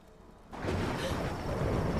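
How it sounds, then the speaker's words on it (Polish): Steady rain from the video game Tomb Raider begins abruptly after a brief quiet moment, a dense, continuous wash of falling water that fills the scene at moderate loudness. "Pada, deszcz"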